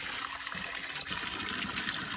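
Steady rushing and gurgling of water from a stream pouring into a container outdoors, close and continuous, with no voices.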